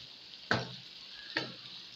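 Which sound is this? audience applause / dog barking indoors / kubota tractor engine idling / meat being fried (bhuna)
meat being fried (bhuna)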